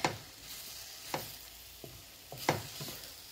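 Korean BBQ beef and bean sprouts being stir-fried in a pan, with intermittent sharp scrapes and clacks of a utensil against the metal over a low, steady sizzle, close up with no talking.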